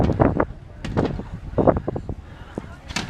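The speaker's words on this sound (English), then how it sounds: "Wind is still blowing the same way." Steady wind gusting and buffeting the microphone outdoors on Mackinac Island, Michigan, as riders push into a good breeze; a close, rumbling roar that swells and dips in short bursts over about three seconds, with faint voice-like sounds mixed in.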